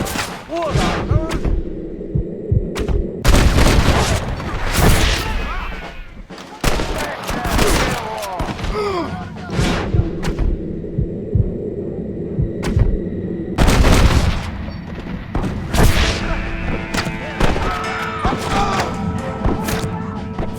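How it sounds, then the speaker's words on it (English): Gunfire in the Western video game Red Dead Redemption: repeated loud shots and heavy thuds burst out in clusters, with game voices and music-like tones between volleys. "Stop shooting at me!"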